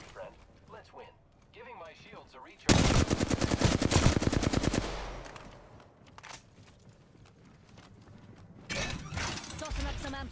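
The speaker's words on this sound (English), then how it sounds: "The enemies are shooting at me." Loud bursts of rapid automatic gunfire from enemy players in the battle royale shooter Apex Legends, a dense sustained volley in the middle with a second burst near the end, mixed with game effects and a player talking.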